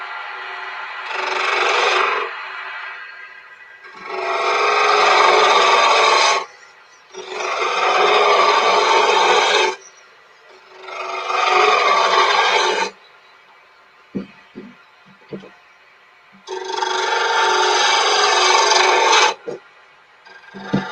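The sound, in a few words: sharpened tool cutting wood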